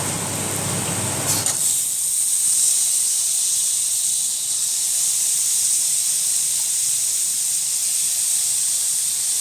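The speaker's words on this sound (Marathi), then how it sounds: "हा गवार आपण धुवून स्वच्छ कापून धुवून केलेला होता हा आता मी हिच्यात घालते बघा" Washed, cut cluster beans (guar) dropped into a hot pan, a brief clatter followed by a loud, steady, close hissing sizzle that continues without talk.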